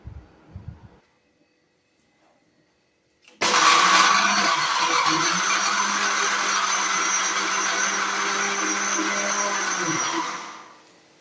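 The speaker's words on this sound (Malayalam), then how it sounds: "നമുക്കിത് മിക്സിയുടെ ഒരു ജാറിലേക്കിട്ട് ശർക്കരയും കുറച്ച് ജീരകവും ചേർത്ത് പൊടിച്ചെടുക്കാം" Mixer grinder jar powdering fried chips with jaggery and a little cumin: after a quiet start, a loud, steady high-pitched whir runs for about seven seconds, then winds down.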